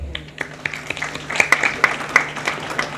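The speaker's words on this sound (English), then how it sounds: "Let's applaud their achievements and vigor." Scattered, sparse clapping from an audience at a medical sciences conference, a handful of distinct claps building slightly then thinning out over a few seconds.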